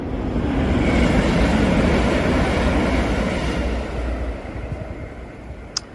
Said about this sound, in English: at some point I'm sure we will see and hear some trains roaring past during the course of tonight's game